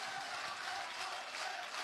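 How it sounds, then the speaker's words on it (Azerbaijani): Audience applause at a meykhana poetry battle, a dense, steady wash of many hands clapping at even loudness throughout, with no speech over it. "Alqışlar."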